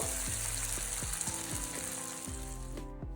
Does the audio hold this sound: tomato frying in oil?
yes